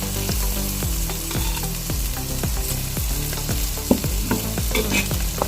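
Prawns sizzling in a pan with ginger, shallots and garlic, stirred in quick repeated scrapes over a steady close frying hiss, with no talking.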